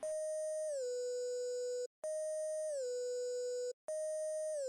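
A steady synth slide note holds, then glides down to a lower pitch; the phrase repeats three times with short gaps, loud and alone, for a UK underground jerk beat.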